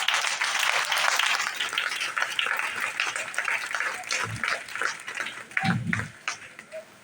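A church congregation applauds the Lord in dense, continuous clapping that stays steady and fairly loud throughout, with a few brief low thumps near the end.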